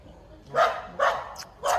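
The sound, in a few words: puppy barking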